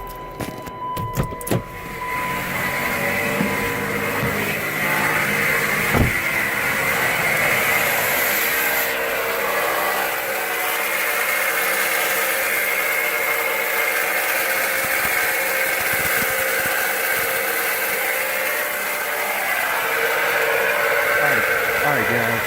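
A running Chrysler car with a failing alternator gives off a steady whine and hum, with some clatter and a few sharp knocks in the first seconds, then a continuous even drone throughout.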